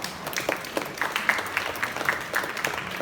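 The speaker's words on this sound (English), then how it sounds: "Please applaud for him." Audience applauding for a class 6 student at a school Values Olympiad ceremony, a steady patter of many hands clapping at moderate volume for about three seconds, with no voices over it.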